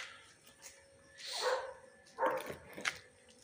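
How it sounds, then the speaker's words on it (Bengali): A pet dog barks outside a home, giving a few separate barks and yips at moderate distance with quiet pauses between them. "ওই যে আওয়াজটা শুনতে পাচ্ছেন ওটা হচ্ছে বাইরে আমার কুকুরের"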